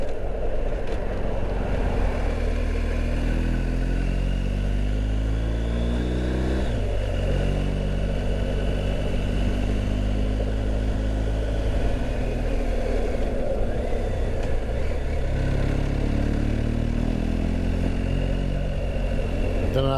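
A new motorcycle's engine drones continuously while riding on the road, its pitch rising and falling with gear changes through steady wind rush, loud and close throughout.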